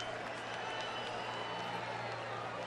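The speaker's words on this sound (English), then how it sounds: "that short, big cheer for Adrian Gonzalez" A baseball stadium crowd at a Rays at Dodgers game gives a short, big cheer for Adrian Gonzalez, a steady distant roar of voices and applause under a constant low hum.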